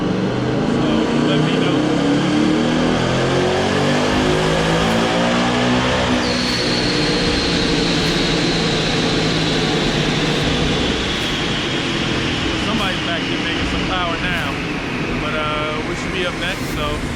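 A car's engine runs hard on a dyno through a six-gear pull on off-road tires, a loud continuous drone with climbing and dropping pitch sweeps as gears change, and someone speaks briefly over it.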